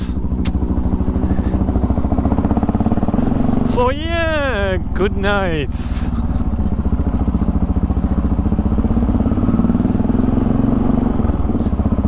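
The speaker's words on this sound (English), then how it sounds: "Suzuki engine, open exhaust." A Suzuki motorcycle engine with open exhaust runs loud and steady throughout, a rough low rumble, with a brief spoken phrase over it midway.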